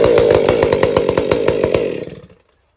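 A Stihl MS 500i chainsaw bites through a raised firewood pole, its loud engine snarling with a rapid chattering cut for about two seconds before it quickly winds down to silence.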